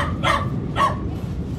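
Schnauzer puppies barking close by, two short sharp yips about half a second apart over a steady background hum, with no talking.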